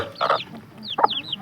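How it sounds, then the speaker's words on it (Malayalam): A native country hen clucks twice in short bursts, close and fairly loud, with a few high chirps from chicks between the clucks. "ഇതൊരു നാടൻ കോഴിയാട്ടോ"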